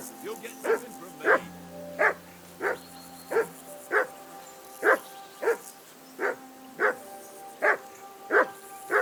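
A dog in the video game Kingdom Come: Deliverance II barks about a dozen times at a steady, even pace. Each bark is loud, close and sharp, separated by short pauses.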